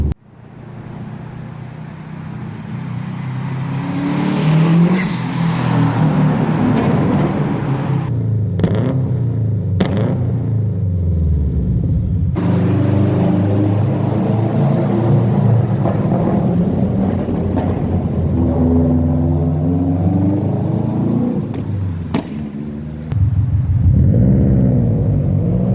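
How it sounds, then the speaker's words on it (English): A 340bhp Subaru Impreza WRX drives past, its loud engine rumble swelling and fading across repeated close passes, partly echoing as if in a tunnel, with revving surges and no talk over it. "I'm going to add in some clips now of some drive-bys that we've took of the car."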